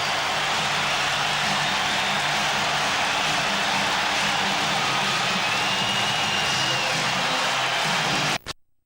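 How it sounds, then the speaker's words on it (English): A large crowd at a 1991 Lakers versus Warriors playoff basketball game in an arena roars steadily as a broad, dense wash of noise, loud and sustained throughout before cutting off abruptly. "Listen to the crowd."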